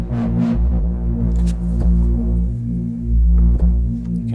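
A distorted break drone synth patch from a bass and tech house sound library plays loud and close, with thick sustained low harmonic tones that swell and dip, broken by short gritty percussive hits.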